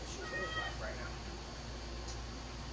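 A single drawn-out meow from a pet cat in a room where an Ikea Boaxel closet is being assembled, fairly close but soft, followed by quiet room noise.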